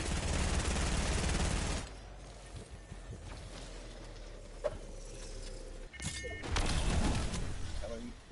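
Rapid Fortnite gunfire bursts in loud clusters at the start and end, separated by quieter stretches with scattered shots, while a player talks over the action.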